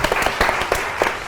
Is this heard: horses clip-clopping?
no